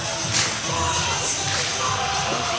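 A wrestling crowd at a live event cheers in a steady, dense roar, with shouts and whistles rising now and then across the arena.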